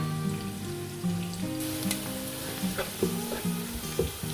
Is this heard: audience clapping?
no